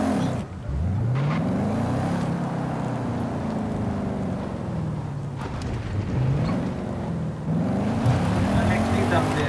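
Engine drone of an Audi car being driven in the racing game Forza Horizon 5, a steady rising and falling motor hum that sweeps up and down through gear changes, heard continuously under a voice.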